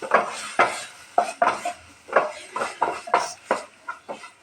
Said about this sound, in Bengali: এবার ঢাকনা তুলে ভালো করে নেড়ে চুড়ে